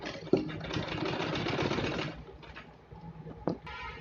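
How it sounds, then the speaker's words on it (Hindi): Sewing machine stitching a fabric pocket for a document holder, a steady close mechanical whir of needle strokes running for about two seconds, then slowing and stopping with a couple of faint clicks. "दूसरी पॉकेट को भी हमने इसी लाइन में इस तरह से रख के सिलाई लगानी है"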